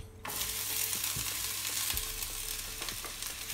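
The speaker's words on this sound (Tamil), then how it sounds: "அப்புறம் இந்த வெங்காயத்தை போடுவோம்." Sliced onions drop into hot oil in a pan and burst into a loud, steady sizzle that continues close up for a few seconds, with light stirring knocks underneath.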